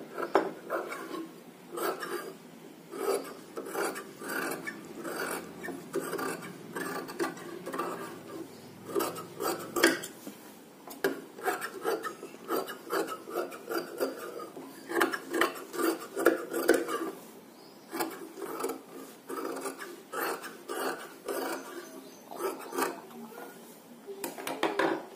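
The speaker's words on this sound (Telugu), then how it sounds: "ఇలా నీట్గా జాయింట్ చేసుకున్న తర్వాత చుట్టూ ఎక్స్ట్రా క్లాత్ అంతా కట్ చేసుకోవాలి" Scissors snipping away the extra cloth around a stitched seam on a boat neck blouse, a run of short, fairly quiet cuts and rustling fabric handled on a table, with no one speaking.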